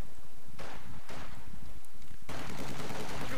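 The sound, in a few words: MG42 machine gun firing in video game Company of Heroes 2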